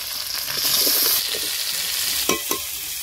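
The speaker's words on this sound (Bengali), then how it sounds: "লাল হয়ে গেছে, এবার পেঁয়াজ আলু দিয়ে দিচ্ছি।" Onion and potato go into oil tempered with cumin, dried red chilli and bay leaf and sizzle loudly, then are stirred, with a couple of sharp spatula scrapes against the pan near the end.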